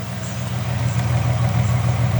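A Mitsubishi Mighty Max pickup engine, fitted with new iridium spark plugs, idles steadily nearby, a continuous low rumbling drone with an even, unbroken rhythm and no voices.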